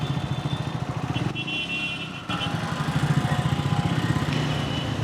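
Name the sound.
Triumph Scrambler 400X motorcycle riding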